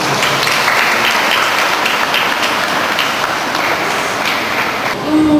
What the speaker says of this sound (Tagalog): Isang palakpak.